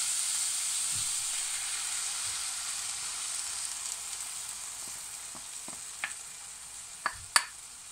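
Egg cooks in a hot pan with a steady, fairly quiet frying hiss, followed by a few sharp clicks and scrapes as it is moved around near the end, with no voices.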